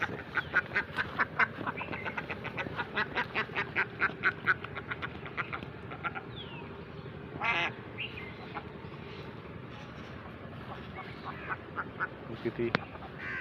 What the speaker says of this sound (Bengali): এদিকে আবার একটা হাঁস